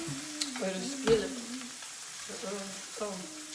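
Shrimp sizzle and fry in a skillet, a continuous crackling hiss with occasional stirring, while voices talk over it.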